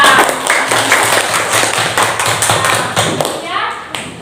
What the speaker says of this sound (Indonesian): Tepuk tangan buat Andika.